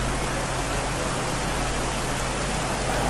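Heavy monsoon rain pours down in Mandi, Himachal Pradesh, a dense, unbroken roar of rainfall that fills the whole clip at steady loudness with no voices.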